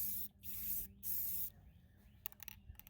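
A spray can of orange tractor paint with a larger nozzle hisses in three short, loud bursts, followed by quieter rattling and handling sounds.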